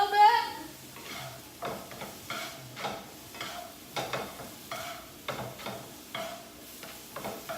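A breakfast scramble in a pan being stirred, with a steady series of soft scraping strokes about once a second over a faint sizzle, close and moderately quiet.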